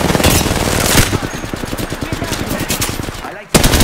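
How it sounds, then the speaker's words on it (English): Rapid automatic gunfire in a shooter video game, loud dense bursts of rattling shots, with voices talking over the shooting before it briefly drops out and resumes. "Help, I'm getting shot"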